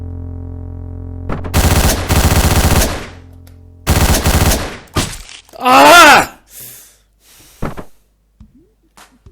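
Machine gun fire in the video game Hotline Miami 2: two long rapid bursts of loud automatic gunfire, then shorter shots, a groaning vocal cry and scattered thuds, with background music beneath.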